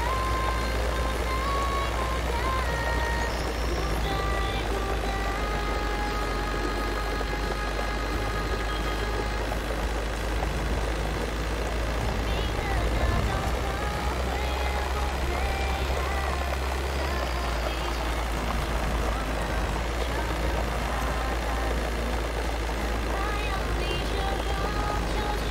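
Bus engine drones steadily in the video game Bus World, with reversing beeps and a constant low rumble throughout, with speech mixed in.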